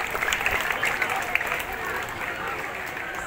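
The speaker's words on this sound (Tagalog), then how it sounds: "Palakpak naman, people." School audience of teachers and students applauding a student radio broadcaster, a steady crowd clapping at moderate loudness, with a voice over it early on.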